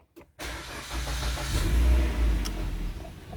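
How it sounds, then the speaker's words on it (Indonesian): A car engine cranks and catches after a push-button start, with the brake and clutch pedals pressed, then settles into a steady, close idle with a slight rise in revs. "Kita coba dinyalakan dengan menginjak pedal rem, pedal kopling, lalu kita pencet start stop system."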